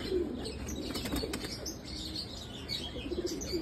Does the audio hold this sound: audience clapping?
no